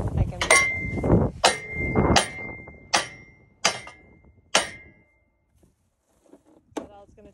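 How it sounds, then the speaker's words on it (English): A Fisher Price hammer strikes a broken-down tractor about six times in an uneven rhythm, each close, sharp hit ringing briefly and metallically. The blows grow sparser toward the end, and faint rustling follows. "That's all it's going to take is my hammer."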